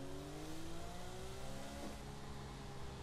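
A car engine in a driving video game revs steadily and rises in pitch as it accelerates under a dense, continuous road and engine roar, with no speech.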